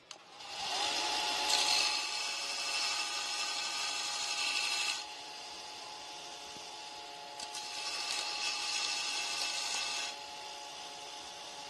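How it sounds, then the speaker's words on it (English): A grinder working metal on a fuel tank being narrowed at a custom speed shop, a steady loud whining roar in two long passes broken by a brief drop in intensity, close up with no speech. "Let me grind some of this down here."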